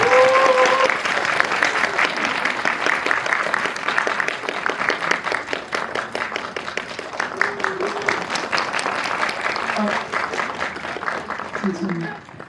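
A film screening audience gives the actors and directors a sustained round of dense clapping as they are introduced. The applause is loud and continuous and fades slightly near the end.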